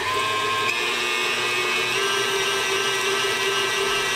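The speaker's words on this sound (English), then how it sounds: "So let's whiz that just a little bit more" An electric mixer whizzes butter for a fruitcake pie batter, giving a steady, even motor whir that runs unbroken from start to finish at moderate loudness, with no talking.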